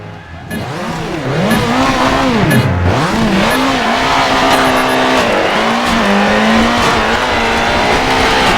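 A Peugeot rally car engine in the DiRT racing game on a stage in Ockfen, Germany, revs loud and steady throughout, with rising and falling pitch as it shifts gears and powers through corners.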